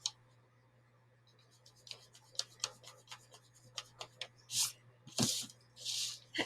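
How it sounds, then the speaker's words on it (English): A big eraser rubs out part of a pencil drawing of a character's nose, a series of short scratchy strokes ending in a few longer, louder rubs, close and quiet with no talking. "And I'm going to erase this"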